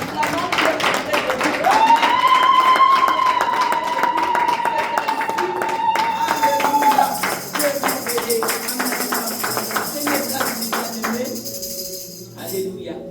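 A church congregation claps in steady rhythmic applause while a sustained sung or held tone carries over it, loud and close, then the clapping continues alone as the tone fades.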